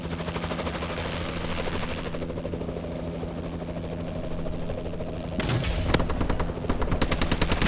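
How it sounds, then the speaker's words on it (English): In the video game Call of Duty Advanced Warfare, a warbird aircraft drones with a steady rotor-like whine while rapid gunfire rattles nearby, growing louder and heavier toward the end. "I'll jump in my teammate's warbird here."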